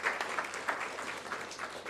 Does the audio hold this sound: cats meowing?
no